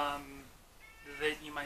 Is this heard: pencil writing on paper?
no